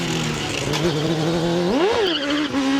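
A race car at the Gurston Down speed hillclimb roars close by, its engine note holding steady, then rising sharply with a quick rev and dropping back as it drives the course.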